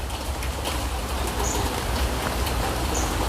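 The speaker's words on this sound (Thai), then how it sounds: "ฝนเริ่มหนักแล้ว" Heavy rain falling in a garden, a dense steady hiss of drops filling the space, loud and continuous with occasional faint bird calls in the background.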